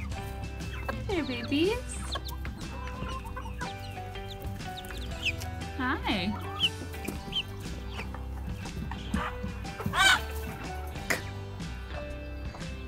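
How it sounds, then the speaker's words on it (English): Young chicks cluck and peep in a backyard coop setting, a busy, overlapping chorus of small chirps and clucks throughout, with someone briefly speaking softly to them. "These eight chicks are the other chicks"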